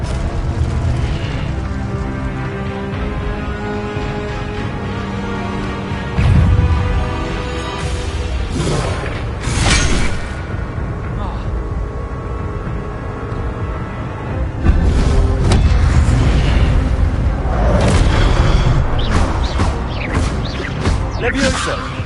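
Spell effects in Hogwarts Legacy burst repeatedly during play, with booming impacts, whooshes and crackling blasts layered over a continuous game soundscape, loud and dense. Several heavy hits land in succession.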